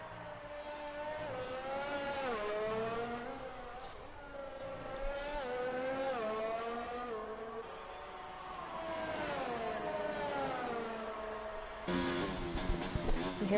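Race cars lapping the Abu Dhabi circuit, a continuous loud engine whine rising and falling through gear changes and braking, with a harsher burst of engine roar near the end.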